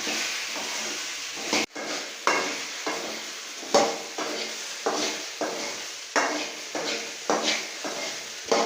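Okra being sautéed in oil in a pan, a soft sizzle under repeated scraping and stirring strokes of a utensil against the pan, spaced roughly every half second to second.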